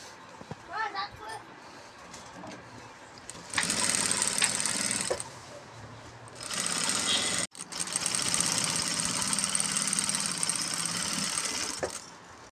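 A sewing machine stitches a korai grass bag in two sustained mechanical bursts of rapid running, separated by a short pause, with a quiet stretch of faint talk and handling before the stitching begins.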